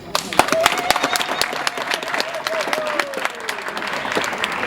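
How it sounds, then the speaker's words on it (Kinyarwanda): Guests at a wedding reception applaud with dense, sustained clapping from a crowd, with a faint tonal sound drifting underneath. "afashe gukoma amashyi"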